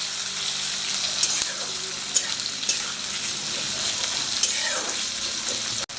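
Chopped onions fry in a pan for Rajasthani dahi pyaaz, giving an even, close, hissing sizzle with scattered pops and brief clinks throughout.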